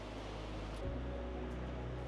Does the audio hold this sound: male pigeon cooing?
no